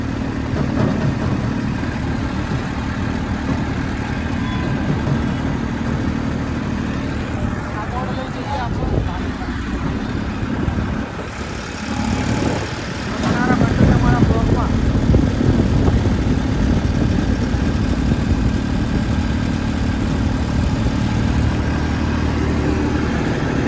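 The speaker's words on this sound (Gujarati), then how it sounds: "આજે અમારા ટ્રેક્ટરની જર્ની તમને બતાવવાની" A tractor engine rumbles steadily and loudly throughout, swelling slightly past the midpoint, while people talk over it.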